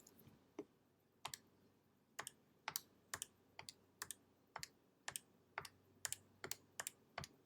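Sharp plastic key presses tap out a seven-number multiplication on a calculator, about fifteen crisp clicks in an uneven rhythm, close and quiet with no talk.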